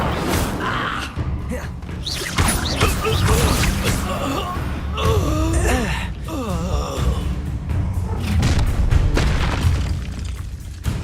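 Fiery Incendio spell cast in Hogwarts Legacy, loud whooshing bursts and booms layered with gasps and combat effects, continuing dense and noisy throughout.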